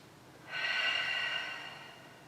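A single deep, breathy exhale during a yoga stretch, rising sharply then slowly fading over about a second and a half, close and fairly soft.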